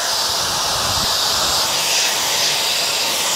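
A Roidmi A100 Xiaomi hair dryer runs at its second speed with a loud, steady, airy rush and a high whine. It sounds close and unbroken throughout.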